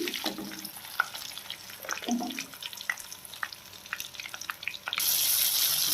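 Garlic cloves and curry leaves fry in a pan for a Telugu brinjal chutney tempering. A soft, steady sizzle runs under scattered utensil clicks and scrapes, and it jumps to a louder, brighter hiss near the end. No one speaks.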